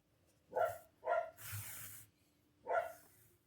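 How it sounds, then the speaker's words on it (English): A dog barks four times nearby, two quick sharp barks, then a longer noisy one, then a final bark after a pause, in an otherwise quiet indoor room. "my dog barking again."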